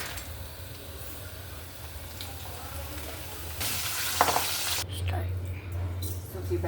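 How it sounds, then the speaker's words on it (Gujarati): Spices crackle and sizzle in hot oil as the tempering for a dry vegetable dish begins, with a faint whisper of voices at first. The sound grows louder and more intense partway through. "સૂકી ભાજીનો વઘાર થાય છે હવે."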